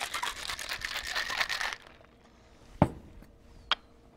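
Ice rattling and crinkling in a cocktail shaker as a moonshine margarita is shaken, a dense burst for under two seconds, then a couple of sharp clinks alone.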